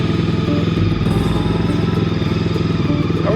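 A Honda ST1300 motorcycle engine runs at a steady idle nearby, a loud, even, throbbing mechanical chug with light clatter that holds throughout, with no talk over it.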